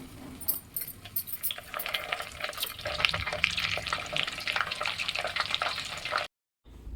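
Water sprinkled by hand into hot homemade ghee, melted down from butter in a pan on a gas stove, sets off a steady close crackle and sizzle of popping bursts that runs for several seconds, then cuts out abruptly.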